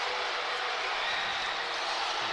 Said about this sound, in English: Hear the displeasure from the crowd.